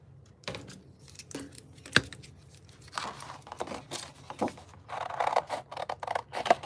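Scissors cutting a 7-inch paper circle for a craft gnome tag, making quiet intermittent snips and paper crinkles up close, growing busier and louder toward the end.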